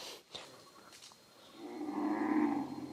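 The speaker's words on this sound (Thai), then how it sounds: "แม่วัวเรียกลูกวัว แต่แม่วัวร้องได้น่ากลัวจังเลยนะครับ" A mother cow moos to call her calf in a forest at night, a long, low, drawn-out bellow rising after a few faint knocks, fairly close and loud against a quiet background.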